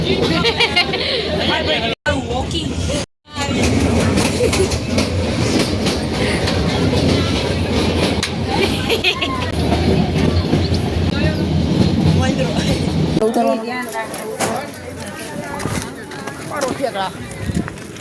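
A train rumbles and clatters along the rails up close as it arrives at Sasan Gir railway station, with people chattering around it, then the noise eases as it slows.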